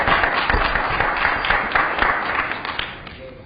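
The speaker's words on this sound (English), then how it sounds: "I'm going to ask that you refrain from clapping and the rest of that." Audience applause at a city public safety committee hearing in St. Louis, a dense burst of many hands clapping in a large room that gradually thins and fades out.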